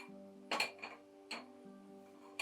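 A kadai pan set down on a stove, a few quiet metallic clinks and knocks spaced apart over a low steady hum, close and faint.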